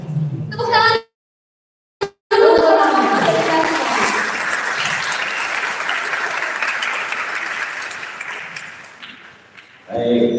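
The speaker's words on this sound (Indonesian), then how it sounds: "Tepuk tangan." A church youth gathering's audience breaks into sustained applause after a brief pause, the clapping dense and steady for several seconds before fading, with talking briefly heard at the start and end.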